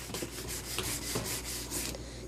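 A triangle brush head on a McCulloch MC1385 canister steam cleaner scrubs back and forth over a small spot, giving soft rhythmic rubbing strokes at close range over a low steady hum.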